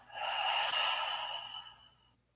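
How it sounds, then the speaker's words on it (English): A single deep exhale through an open mouth during a hatha yoga relaxation, a breathy rush of air that swells quickly and then slowly tapers off over about two seconds, close and alone. "Breathe in deeply, one final conscious breath. And exhale through open mouth."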